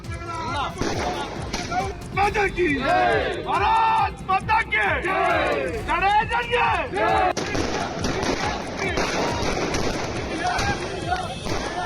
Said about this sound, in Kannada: ಕ್ರಿಕೆಟ್ ಪ್ರೇಮಿಗಳು ಸಿಹಿ ಹಂಚಿ ಪಟಾಕಿ ಸಿಡಿಸಿದರು